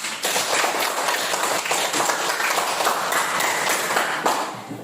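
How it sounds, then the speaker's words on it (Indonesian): Classroom of young pupils applauding together after group presentations, a dense, continuous wash of clapping hands close by, steady for several seconds with scattered sharper claps standing out. "tepuk tangan untuk kita semua"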